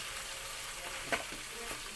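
Dried beef (unakkirachi) frying in a pan, giving a steady broadband hiss with one brief louder crackle, faint and close.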